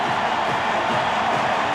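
Dense, continuous roar of a loud hometown crowd cheering inside the United Center during the 1996 NBA Finals Game 6, Chicago Bulls hosting the Seattle SuperSonics, steady and enveloping from start to finish.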